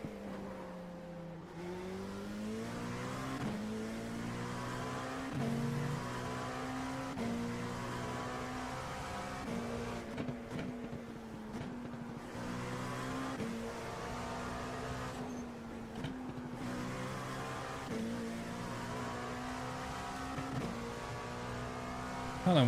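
An LMP2 prototype race car in the iRacing sim roars through repeated upshifts, its engine note climbing and dropping in a steady rhythmic pattern, loud and continuous with no talk.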